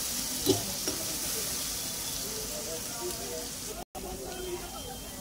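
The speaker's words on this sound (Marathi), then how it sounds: "मला चांगलं फ्राय होऊ द्यायचं।" Ginger, garlic and green chili paste fries in a pan with a soft, steady sizzle that stays faint and continuous, with a couple of light clinks near the start.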